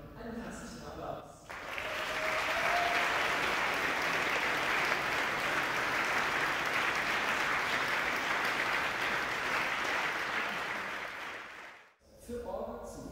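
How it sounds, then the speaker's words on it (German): Warm, sustained applause from a concert audience for the sound technician, a full even wash of clapping that lasts about ten seconds before fading. Brief murmurs and talk can be heard before and after. "Und auch dafür einen herzlichen Applaus."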